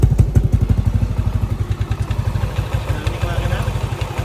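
A motorcycle fitted with a newly built 63mm JPT block, ZL20/23 head and 36mm throttle body idling up close, a loud, rapid, even thumping pulse with mechanical clatter that runs without pause.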